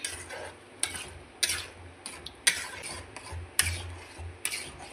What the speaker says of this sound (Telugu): ఇదిగోండి పప్పు దీంట్లోకి వేస్తున్నాం